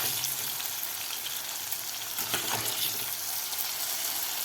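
Cluster beans fry steadily in hot oil, a constant close hissing sizzle with little variation and a faint clink partway through.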